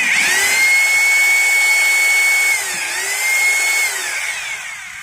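A Maktec MT870 rotary hammer drill under repair for a no-drilling fault, running alone with a loud, steady high-pitched motor whine that dips briefly midway before resuming.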